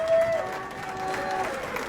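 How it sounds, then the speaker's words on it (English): A local political crowd gives brief applause with some cheering, a moderate, washy clatter of hands heard from a distance with tonal hum running through it. "Wow, that was raucous, man. rapturous applause."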